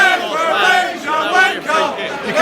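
Football crowd at Priestfield stadium, Gillingham against Wigan, a dense mass of voices shouting and jeering in a sustained swell of indignant noise, rising and falling over a couple of seconds.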